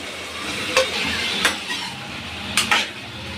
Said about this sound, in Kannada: ಈ ಕಡೆ ಹಾಗಲಕಾಯಿ ಫ್ರೈ ಮಾಡ್ಕೊಳ್ತಾ ಇದ್ದೀನಿ